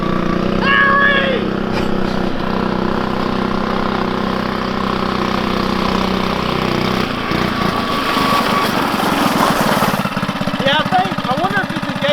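A Lil Rascal mini bike with a 79cc Predator engine runs loud and close with a steady, chattering small-engine drone. Its pitch shifts midway as it revs and changes load, and someone talks over it.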